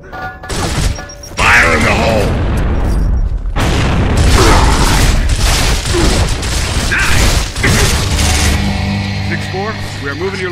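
Gears of War game combat with a heavy frag grenade blast amid sustained gunfire, clanking mechanisms and booming impacts, loud and chaotic, with character voices shouting over the din.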